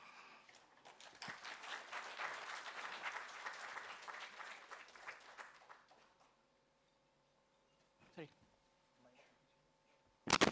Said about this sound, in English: thank you for applauding me